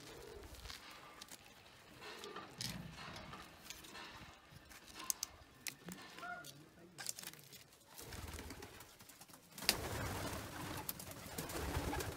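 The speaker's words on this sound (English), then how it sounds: "This is where I keep a couple hundred pigeons." A pigeon house holding a couple hundred pigeons, low soft cooing layered with rustling and flutters, a dense close murmur of birds throughout.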